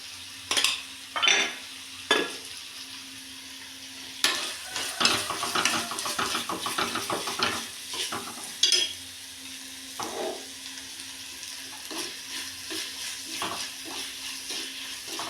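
Green chillies and fish curry ingredients for a mackerel curry sauté in a pan. A soft, continuous sizzle is broken by repeated scraping and clinking stirs from a utensil, with no voices.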